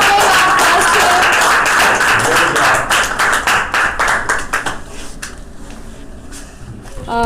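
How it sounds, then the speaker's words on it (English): An audience claps for a student named star of the month at a monthly rewards and recognition ceremony, a dense, steady burst of many hands at close range that thins toward the end before a brief voice cuts in. "Give a big applause to her"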